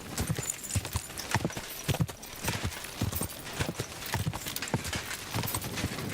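Horse hooves clip-clopping in Kingdom Come Deliverance 2, a steady rhythmic trot of sharp hoof strikes at close range, continuing evenly throughout.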